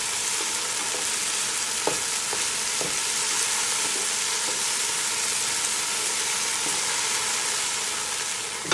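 Garlic fries in a hot pan for pancit bihon, a dense, steady sizzle close up with occasional light clinks and scrapes of stirring throughout.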